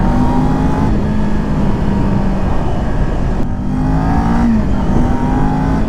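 Kawasaki Ninja 400 motorcycle with its stock, heavily muffled exhaust, the engine droning steadily and loudly throughout with rising and falling revs, close by and with no voices over it.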